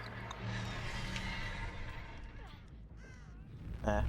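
A crow in a video game gives a few harsh caws as a bird flies up, faint and somewhat distant over a steady low background rumble, with a sharper burst near the end.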